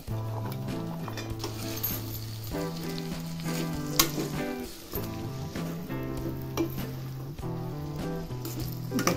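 Potatoes and brinjal fry in hot oil for a Bhogi mixed-vegetable dish, a steady sizzle with occasional utensil clinks against the pan and music playing underneath.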